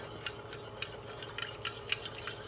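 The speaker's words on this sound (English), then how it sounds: "As you notice, you never stop stirring." Spoon stirring hot cacao and milk in a pot, faint repeated scraping strokes against the pot bottom at an uneven, steady pace over a low background hum.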